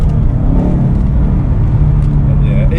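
V8 car driven down a street, engine rumbling loudly and pulling hard with a deep steady growl, close up from inside the car throughout.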